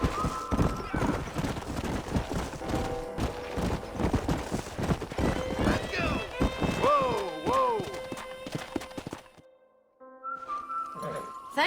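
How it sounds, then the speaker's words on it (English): Horse hooves clip-clop steadily in the video game Red Dead Redemption, a brisk close rhythm of hoofbeats with a horse whinnying midway and other game sounds, before a quiet stretch and a short tonal passage. "നമ്മുടെ horse follow ചെയ്യുന്നുണ്ടല്ലോ"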